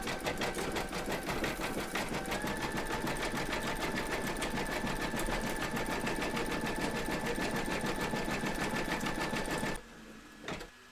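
An embroidery machine zigzag-stitches a raw edge on a hooped coaster, a steady, rapid mechanical chatter running for about ten seconds before stopping, followed by faint handling sounds.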